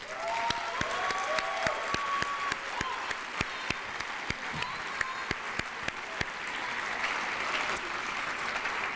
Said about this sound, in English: we need to applaud you for supporting these graduates